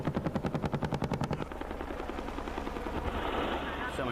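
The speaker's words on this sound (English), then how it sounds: "Their heavy cannons open up, making an unmistakable deadly sound." Heavy cannon fire from an Apache attack helicopter in Afghanistan: a fast, loud, evenly spaced burst of booming shots for over a second, then a sustained roaring rumble of rotor and engine noise.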